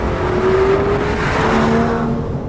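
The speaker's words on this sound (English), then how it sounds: "It's a lovely smooth V12 growl" An Aston Martin DB11 AMR V12 revs up smoothly in third gear out of a corner, its deep growl rising steadily in pitch as it accelerates, loud and close with no talking.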